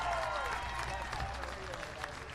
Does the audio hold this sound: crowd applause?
yes